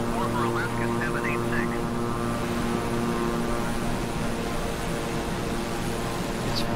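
A twin-engine King Air 350i turboprop in Microsoft Flight Simulator drones steadily throughout, a loud even propeller hum with strong tonal harmonics, while a voice talks over it early on.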